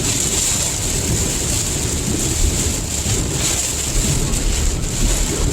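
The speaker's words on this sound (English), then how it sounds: "it went from not bad to little rain and thunder" Rain and thunder in a hunting video game, a steady dense hiss of heavy rain with a low rumbling undertone and gusting wind, loud and continuous throughout.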